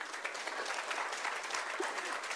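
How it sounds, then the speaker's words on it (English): A city council meeting audience in West Covina gives a round of applause, a dense, steady patter of many hands clapping throughout at moderate volume with no speech over it. "A round of applause, please."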